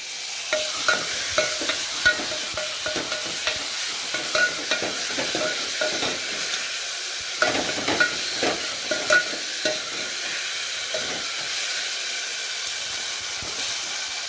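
Ingredients frying in a pan, a continuous hissing sizzle with scattered crackles and soft stirring clicks, steady and close for the whole stretch.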